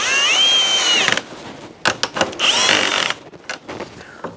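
A cordless drill, set to clutch setting 17 and tightening a bolt on an e-bike, whirs in several short bursts, its pitch rising and falling as it runs up and stops, close by.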